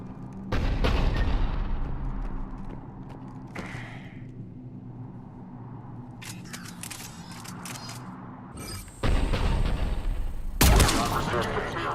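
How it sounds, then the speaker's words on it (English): Heavy bursts of cannon fire in Mass Effect 3 boom repeatedly amid rumbling mechanical noise and creaks, loud and close, with sharp blasts toward the end. "The cannon fire is clearing the way."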